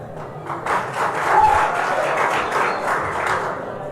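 Audience applause at a live 2022 Turkana gubernatorial debate, a dense wash of clapping rising quickly and holding steady for several seconds under faint background murmur.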